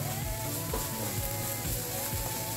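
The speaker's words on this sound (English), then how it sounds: "And then we'll put half of the onions in there." Onions sizzling in a hot pan for a crock pot recipe, a steady broadband frying hiss with occasional low knocks and shifts, continuous and close, with no talking.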